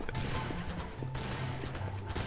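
Scattered bursts of gunfire crackle through a dense, noisy background in Garry's Mod, several shots spaced irregularly, with no clear voices over the din.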